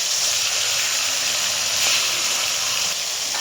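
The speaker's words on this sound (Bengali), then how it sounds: "এবার আমি মাছটা ছেড়ে দেবো। মাছটা তেলে দিয়ে দিচ্ছি।" A small, salted and turmeric-rubbed snakehead fish (sol) frying in hot oil in a wok gives a loud, dense, continuous sizzling hiss that holds steady from start to finish, close up and with no talking.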